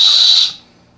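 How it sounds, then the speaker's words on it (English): A small whistle built into a ferro rod gives one short, shrill, bright blast, loud and close, then cuts off abruptly into near silence. "this particular ferro rod has a whistle"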